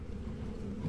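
Honey bees buzz steadily around an open Layens hive during an inspection, a faint, continuous low drone with no distinct breaks and no voices.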